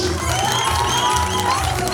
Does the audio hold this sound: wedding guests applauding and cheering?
yes